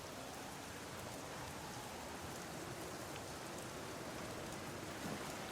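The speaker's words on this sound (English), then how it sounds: "Is it like the Stardew Valley, like, rain ambience?" Steady rain in a farming-style video game, a soft, even hiss of falling drops that holds unchanged throughout, with no voices.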